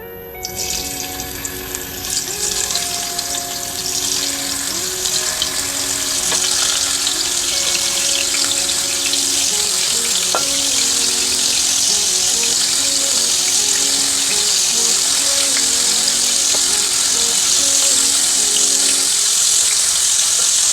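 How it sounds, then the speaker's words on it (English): Shrimp hit a hot oiled pot and fry with a loud, steady hissing sizzle that builds and holds, close up, alone with no talk. "our pot is nice and hot, so I'm just going to go in and add our shrimps now"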